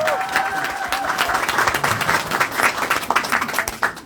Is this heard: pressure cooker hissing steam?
no